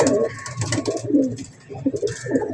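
Pigeons coo continuously up close, with low throaty rolling calls overlapping one another and an occasional faint chirp above them. The flock is kept by a breeder in the UAE.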